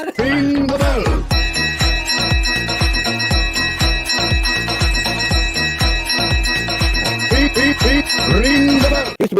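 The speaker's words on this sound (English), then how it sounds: "Ring the bell." A bell rings in a rapid, regular series of bright, ringing strikes that go on for several seconds, loud and close, with no talk over it.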